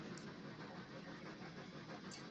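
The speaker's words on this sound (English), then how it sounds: "I'll let the engine take us for a victory lap here." A K&L Strasburg 475 model train engine runs with a steady, faint mechanical whir and hum, continuous and even throughout, with nothing else heard.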